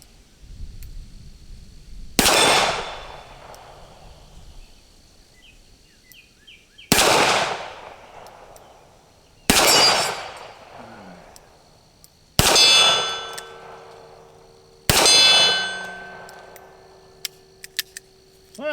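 Five loud, widely spaced gunshots from a Smith and Wesson Model 36 revolver, each followed by a ringing metallic clang of the bullet striking a steel target, with the ring trailing off between shots outdoors.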